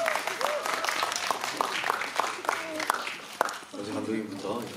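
An audience in a CGV Yongsan cinema applauds to welcome the director and actors of the film PMC: The Bunker for a stage greeting. The clapping is dense and steady, with voices heard over it.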